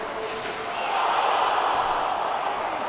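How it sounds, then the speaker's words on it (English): Hockey crowd at a high school district final reacting with a swelling murmur of oohs and ahs, rising in volume partway through and holding as a broad, sustained wash of many voices in an arena. "Oohs and ahs from the crowd."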